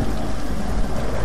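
Steady, loud rain with rumbling thunder fills a stormy scene in the game Tomb Raider, a dense continuous downpour with no voices.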